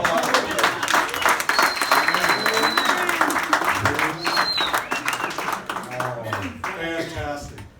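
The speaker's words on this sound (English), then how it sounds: "So let's give a nice round of applause." Audience applause and clapping for foosball hall of fame inductees fill the room, a steady wash of claps with crowd murmur and voices mixed in, fading slightly near the end.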